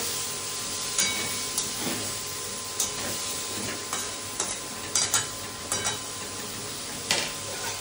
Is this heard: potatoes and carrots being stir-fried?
yes